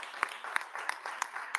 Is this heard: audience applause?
yes